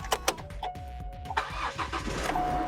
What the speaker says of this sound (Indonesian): kita nyalakan mesin terlebih dahulu.